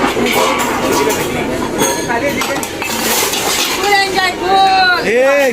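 Dishes being washed at a farmhouse, with clinks and clatters of metal utensils knocking together and ringing tones near the end, heard under continuous talking.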